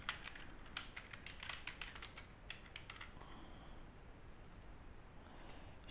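Fast typing on a computer keyboard during a web programming lesson, a steady run of clicky keystrokes with short pauses, fairly quiet and close, with no talking.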